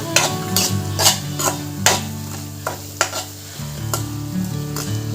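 Prawn curry bubbles and sizzles in a pan while a spoon scrapes and stirs it in repeated strokes, with clinks of the utensil against the metal over a steady cooking hiss.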